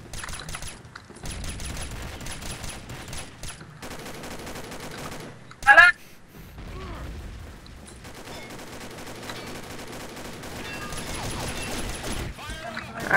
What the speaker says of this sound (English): Ah, he threw a nade.